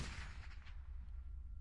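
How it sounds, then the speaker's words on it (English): A single dull, muffled gunshot thumps at the very start, followed by a low rumbling fade, faint and heard from behind walls in an otherwise quiet setting. "the silence was broken by a single, muffled gunshot"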